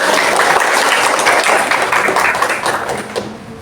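A classroom of students claps together in a loud, close burst of applause that holds steady for a few seconds and then tapers off toward the end.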